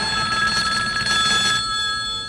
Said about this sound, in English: Sounds like the phone.